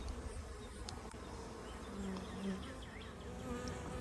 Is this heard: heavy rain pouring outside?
no